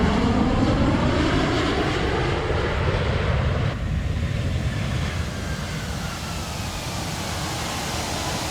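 Aircraft engine in the X-Plane 12 flight simulator, a steady, loud broadband roar that holds throughout with a slight drop midway, no voices present.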